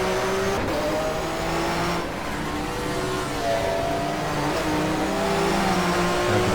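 A 1994 BMW German Touring Car Cup racer in GTR2 at Diepholz brakes and shifts down, its engine note stepping through falling and rising revs with faint tire noise, loud and close with no voices.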